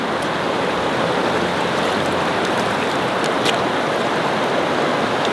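Fresh mountain water of the Thethith river in the Albanian Alps rushes and churns continuously, a dense, loud, even hiss of flowing water close by with no voices.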